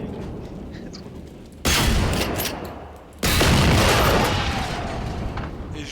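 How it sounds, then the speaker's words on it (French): Shotgun fire in a video game comes as two loud, sharp blasts with a dense crackling rumble trailing after each one, set over a quieter background. "Et je l'ai fini au shotgun"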